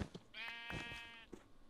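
A sheep in the Minecraft video game gives a single wavering bleat, quiet and clear, with no talking.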